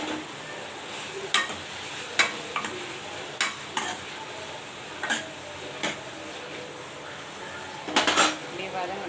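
Coriander sautés in a pan with a low continuous sizzle, and sharp spoon taps and scrapes against the pan come at irregular intervals. No one speaks.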